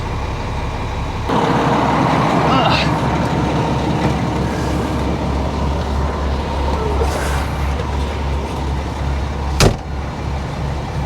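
A gravel truck's engine runs with a steady, loud low rumble that holds nearly unchanged from start to finish, with a sharp click near the end.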